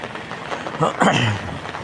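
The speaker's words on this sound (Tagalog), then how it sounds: "kasalukuyang umuulan po ngayon" Soft, steady rain hiss in Santiago, Philippines, with a brief voice in the middle, fairly close and moderate in loudness.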